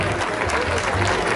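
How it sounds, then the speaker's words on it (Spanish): Brief burst of crowd clapping for the president at an award ceremony for a mountain-bike race, dense and loud with a murmur of voices mixed in. "Un aplauso al presidente para primero"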